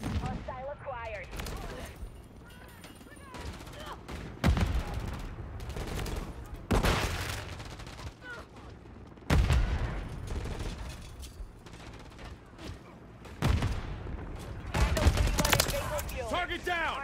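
Gunfire and explosions in the Call of Duty MW3 video game during a third-person match against bots, with repeated loud bursts and volleys breaking over a steady battle din while in-game voices shout.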